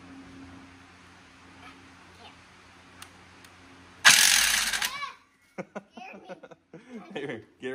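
A handheld impact wrench takes lug nuts off a Bullnose OBS Ford F-150 truck, one loud rattling burst of hammering lasting about a second. Voices and laughter follow right after.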